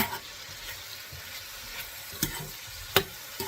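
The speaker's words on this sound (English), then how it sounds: "I'm going to stir this around." Minced garlic and beer brats frying in a pan while being stirred, a steady soft sizzle broken by a few sharp scraping clicks from the utensil.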